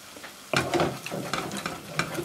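Ginger and garlic paste sizzles in a pan with stirring scrapes, a brief quiet lead-in before the frying noise rises and holds steady for a couple of seconds, close and moderately loud.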